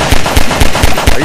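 Rapid gunfire in the sandbox game Garry's Mod, a burst of about five sharp, evenly spaced shots fired close and loud with no talking over them.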